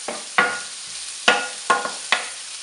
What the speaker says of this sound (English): be sure to stir it around so those onions don't get too burned